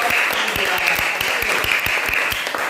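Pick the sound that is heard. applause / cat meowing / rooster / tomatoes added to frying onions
applause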